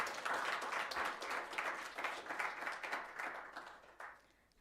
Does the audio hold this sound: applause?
yes